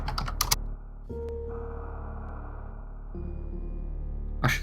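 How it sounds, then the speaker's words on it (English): Keys clack on a computer keyboard picked up by a very sensitive microphone during a live stream, a few quick taps at the start and end over a steady electronic hum. "I should stop typing. This mic is crazy sensitive."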